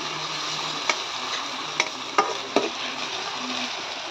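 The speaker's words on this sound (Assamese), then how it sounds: "এতিয়া দি দিয়া হ'ব পিঁয়াজ, মিহি মিহিকৈ কাটি থোৱা পিঁয়াজ। এতিয়া অকণমান লাহেকৈ লৰাই লওঁ।" Finely chopped onions frying in hot oil for a meat curry, a steady close sizzle with a few sharp spoon taps and scrapes as they are stirred, no talking.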